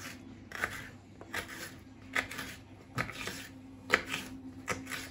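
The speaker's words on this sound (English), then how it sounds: "this is how we're going to be cutting our red peppers" A knife slices red peppers lengthwise for Mexican tacos, giving about seven soft, quiet cuts spaced evenly against a cutting surface, with a faint low background hum and no talking.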